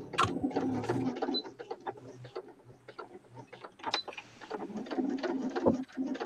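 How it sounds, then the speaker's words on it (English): A domestic sewing machine runs an ordinary straight stitch through Velcro in busy rattling bursts, fairly close, with brief pauses between runs and a faint voice now and then in the background. "I'm just going to stitch that on with an ordinary stitch"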